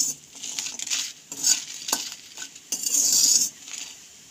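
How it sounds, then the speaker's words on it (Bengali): A spoon scrapes and clatters in a dry wok as dried red chillies and garlic cloves toast without oil for a bean bharta, in uneven bursts of stirring with a light sizzle. "এখন ওই কড়াইয়ের মধ্যে কয়েকটা শুকনো লঙ্কা আর কয়েক কোয়া রসুন, তেল না দিয়ে একটু টেলে নেব।"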